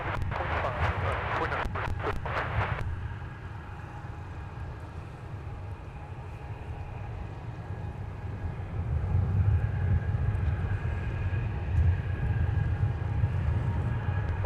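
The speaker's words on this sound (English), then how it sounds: "There's a sleek little Gulfstream 280." A Gulfstream 280 business jet moves around Minneapolis–Saint Paul airport with a steady, loud engine roar and rumble. A burst of radio chatter sounds at the start, and the low drone swells again toward the end.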